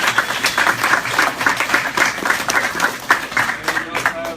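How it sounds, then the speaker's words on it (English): An audience at a Godzilla film premiere at a fan convention claps for a guest, a burst of close, uneven applause mixed with voices. "So give him a round of applause,"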